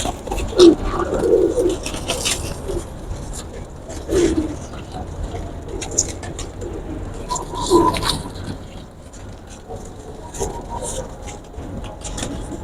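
Cheena pigeons coo repeatedly from a rooftop loft, soft throaty calls recurring every few seconds over steady outdoor background noise, with a voice talking at times.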